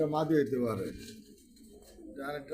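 Racing, satin and Danish pigeons cooing close by, soft throaty warbling calls mixed under someone talking.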